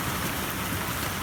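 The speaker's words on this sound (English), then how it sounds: "it's the first actual real rainfall" Steady rain falls on a roof and garden, a dense continuous hiss of drops with a low patter, loud and close throughout with no voices.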